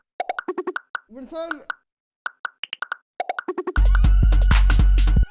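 A little pop sample used as percussion in a footwork drum pattern, short bright plops repeating in quick uneven bursts with gaps, then buried under a dense loud beat at the end.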